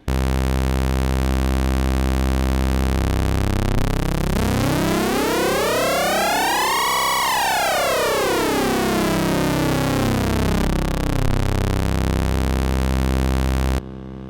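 A steady FM synth tone built on a triangle wave dropped an octave, holding a buzzy harmonic drone whose bright partials sweep up to a peak and fall back down, loud and continuous with no voice, stopping abruptly near the end.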